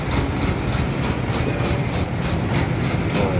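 Rough, snoring exhaust rumble from an intercity bus on the Pantura route near Subang, heard at night among parked trucks. The low, steady grumble is continuous and fairly loud, with no talk over it.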